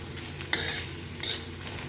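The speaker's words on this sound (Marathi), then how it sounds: "कांदा लाल होईपर्यंत परतून घ्यायचा आहे." Onion frying in a pan for a spicy liver fry, a continuous close sizzle broken by two brief bursts of stirring with a spatula, no speech.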